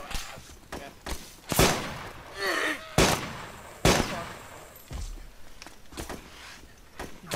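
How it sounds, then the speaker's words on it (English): Gunfire in the ARMA 2 DayZ mod, several sharp shots at irregular intervals, some loud and close, others softer, with brief speech between them. "Somebody's shooting."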